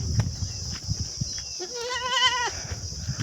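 A single goat bleats once from mid-distance, a wavering nasal cry of about a second, set against outdoor rustling and a constant high insect-like whine.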